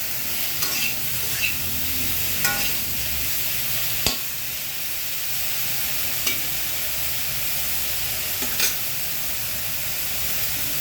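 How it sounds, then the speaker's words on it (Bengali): Eggplant fries in oil with salt and turmeric, sizzling loudly and steadily up close while a utensil stirs it, adding occasional sharp scrapes and clacks against the pan. "প্রথমে তেল দিয়ে বেগুন ঢেলে তারপরে নুন হলদি এসব দিয়ে নাড়িয়ে"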